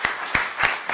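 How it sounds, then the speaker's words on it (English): Four distinct claps sound in slow succession as a panel discussion session closes, close and fairly loud, with a faint room hum between them. "Let's give them another round of applause just to close the session off."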